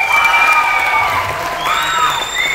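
An award-ceremony audience claps and cheers, a steady dense wash of applause with shouts and whoops rising over it, loud and close, with no clear speech.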